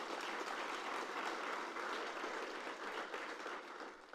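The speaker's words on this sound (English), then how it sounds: "Please give my team a round of applause as well" A crowd claps steadily in sustained applause, dense and even throughout, tapering slightly at the very end.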